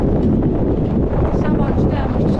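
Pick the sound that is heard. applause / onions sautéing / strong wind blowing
strong wind blowing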